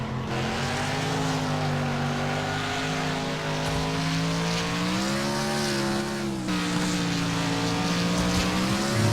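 Race car engines in the Wreckfest racing game, a loud steady engine drone with pitch rising and falling as the car accelerates and shifts through the lap, continuous throughout with no voice over it.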